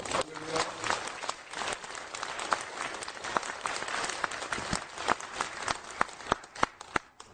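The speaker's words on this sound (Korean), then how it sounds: "뜨거운 박수와 하나님 앞에 드립니다" A church congregation gives warm, dense applause for pastors being installed as mission leaders, with many hands clapping steadily and a few louder claps standing out near the end.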